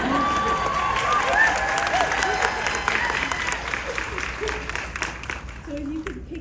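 A Seattle audience breaks into a full round of applause with scattered cheers and whoops, loud and sustained at first and then gradually thinning out toward the end.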